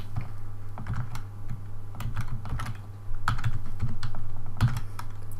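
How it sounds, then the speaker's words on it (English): Keys clatter on a computer keyboard as someone types, including a shift combination, in irregular close clicks over a steady low hum, with no talking. "which on my keyboard I get by typing shift together with the key that's right next to the shift"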